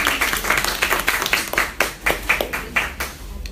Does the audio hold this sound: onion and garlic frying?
no